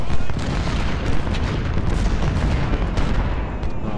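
Continuous booming cannon fire and gunfire from a battle in the video game Ultimate General: Civil War, South Mountain, dense and loud throughout, with overlapping blasts and no pauses.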